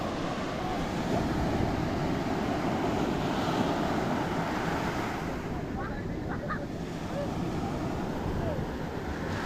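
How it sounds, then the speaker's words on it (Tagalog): Sea waves surge and wash continuously during the habagat monsoon, a broad roaring surf mixed with gusting wind buffeting the microphone, loud and close with no clear breaks. "Ang daming nag-i-enjoy naman sa alon"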